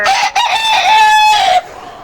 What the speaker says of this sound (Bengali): এগুলা কি মুরগি?